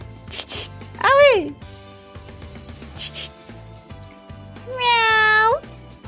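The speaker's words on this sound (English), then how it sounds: "Meow." A cat meows twice, a short rising-falling cry and then a longer drawn-out one, between stretches of background music and noise.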